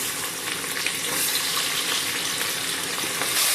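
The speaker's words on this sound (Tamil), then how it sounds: "இப்போ எண்ணெய் நல்லா காஞ்சோடனே இந்த வெங்காயத்தை போட்டு" Sliced onions dropped into hot oil for a biryani, frying with a dense, continuous hiss and crackle that holds steady and grows slightly louder toward the end, with no voices.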